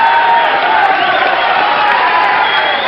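A darts crowd at the Oldham Civic Hall during a 1983 Masters final, a steady, dense roar of cheering and whooping that holds at full loudness throughout without a break.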